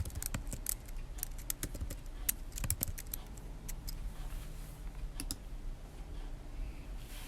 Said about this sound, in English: So I'm going to go over to Google and type in calendar.